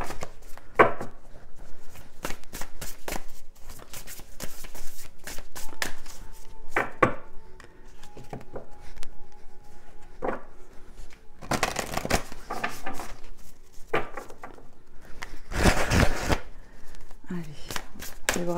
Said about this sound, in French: Je vais bien brasser le jeu.